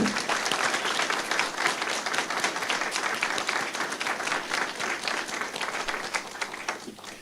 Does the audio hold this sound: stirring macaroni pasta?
no